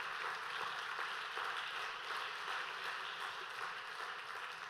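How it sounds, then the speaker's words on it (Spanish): A church congregation applauds in a faint, steady wash of many hands clapping together, sustained evenly from start to finish without voices. "Denle un fuerte aplauso al Señor Jesucristo."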